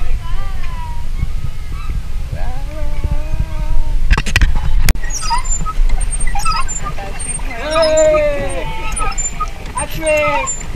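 Geese honk repeatedly nearby, their nasal calls coming in bursts and overlapping into a loud flock chorus toward the end, over a rumbly outdoor background with a few sharp knocks.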